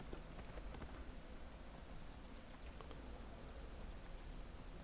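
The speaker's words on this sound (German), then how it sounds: "dann hoppeln wir da mal hin mit unserem Pferd" Horse hooves patter faintly while riding a horse in the video game Neverwinter, a soft rhythmic clopping buried under a dense, steady wash of ambient game noise.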